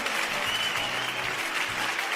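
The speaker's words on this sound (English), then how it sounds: "Please give him another round of applause." Sustained applause from an audience, a dense, even clatter of clapping throughout the short stretch.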